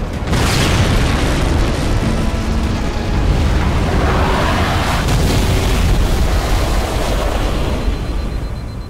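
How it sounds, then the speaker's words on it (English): A Lich vehicle exploding in the Halo 4 video game, a loud booming blast that settles into a sustained rumbling roar lasting several seconds before slowly easing off. "watch what is, quite frankly, the most pathetic explosion in the history of explosions"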